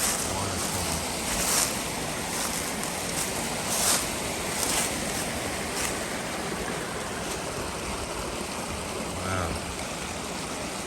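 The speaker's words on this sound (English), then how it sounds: "Check out this waterfall." A waterfall beside a desolate Arkansas backroad gives a steady, full rushing roar of falling water, constant throughout, with a brief exclaimed word from someone nearby.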